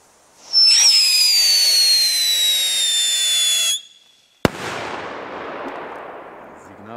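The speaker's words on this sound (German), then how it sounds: "Sehr schöne Böller." A loud whistling Polish firecracker (Scream 5S) screams for about three seconds with a falling pitch, then a single sharp bang cracks, trailing off into crackling rumble.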